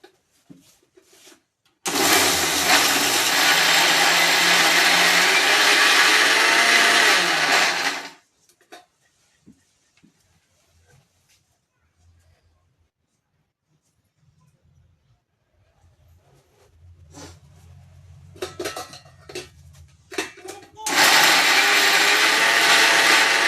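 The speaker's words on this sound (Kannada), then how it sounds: "ಬನ್ನಿ ಇವಾಗ ಇದು ಮಿಕ್ಸಿ ಜಾರ್ಗೆ ಹಾಕಿಕೊಂಡು ಬರ್ತೇನೆ." A mixie grinder whirs as it blends North Karnataka red chutney with powdered jaggery. It gives a loud sustained grinding burst of about six seconds, then a quieter stretch with low rumbling, and a second loud burst at the end.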